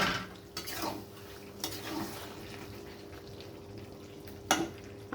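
A pot lid comes off boiling potatoes with clinks of metal, followed by stirring and scraping at the pot under a steady low simmer, plus another sharp clank near the end.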